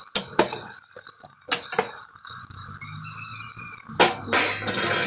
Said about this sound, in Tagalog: Mikas muna natin ang ating ginisang upo.